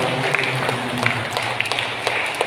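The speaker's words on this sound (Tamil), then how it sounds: "கைத்தட்டி" The congregation at a Christmas celebration gives a short round of hand clapping. Sharp claps sound unevenly through the crowd at moderate loudness, with no voices over them.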